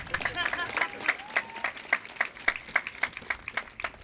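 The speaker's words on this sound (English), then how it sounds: "yeah, that's something to clap for." At a 2025 high school graduation ceremony, the audience applauds a student athlete with a scattered run of distinct claps that come in a loose, fairly quick rhythm, and voices can be heard mixed in.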